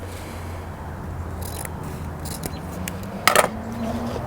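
Scissors snip the tail of a fabric ribbon at an angle while a Christmas bow is tied, a few soft close cuts with one sharper crunch near the end over a low steady hum.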